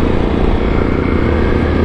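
A CSC TT250 motorcycle being ridden, its engine droning steadily and loudly up close with rushing wind noise, no voices.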